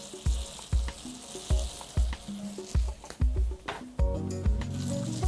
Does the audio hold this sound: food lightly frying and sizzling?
yes